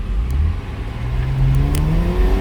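A 2016 Porsche Macan S engine accelerates hard, its rising revs sweeping upward loud and close with a brief pop near a shift, and no talk.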